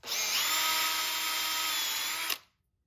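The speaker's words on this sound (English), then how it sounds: "You put it in a drill and you can clean it like this." A power drill spins a grand piano treble hammerhead to clean it, a loud steady whine holding for over two seconds before abruptly cutting off.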